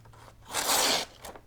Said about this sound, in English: let's put it to the test and see how it does cutting paper